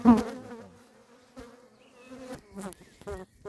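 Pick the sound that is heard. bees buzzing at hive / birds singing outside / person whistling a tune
bees buzzing at hive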